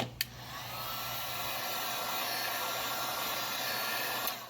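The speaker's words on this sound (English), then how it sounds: "I'm going to speed the process up a little bit with a heat gun." A heat gun blows steadily while drying the grip on an M&P Shield pistol, a continuous close whooshing whir that holds level for several seconds with no talk.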